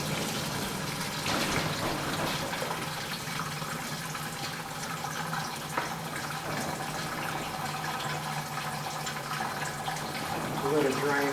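Antifreeze drains steadily from a BMW radiator during engine removal, a continuous liquid trickle and splash that runs throughout, with faint workshop noise in the background.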